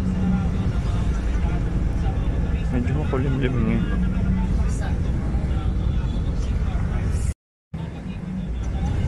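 Inside a moving bus on a cloudy day, a steady engine and road rumble runs under a person talking. Near the end there is a brief dropout, and then the drone carries on.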